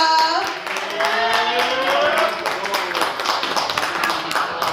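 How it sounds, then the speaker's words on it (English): Applause from an audience at a blues bar venue, dense clapping with a voice and tonal sound briefly audible over it at the start, continuing steadily. "Can I get a round of applause for Teisha?"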